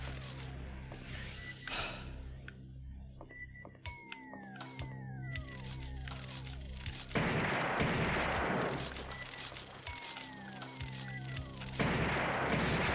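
In Alien Trilogy on PS1, gunfire rings out in sharp repeated bursts over a droning electronic background, with occasional whooshing tones and heavier blasts.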